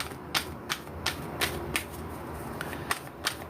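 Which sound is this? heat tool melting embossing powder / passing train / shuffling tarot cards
shuffling tarot cards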